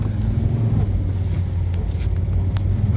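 A Mercedes ML W163 pushes through swampy mud, heard from inside as a loud, steady low engine and road rumble, with no talking.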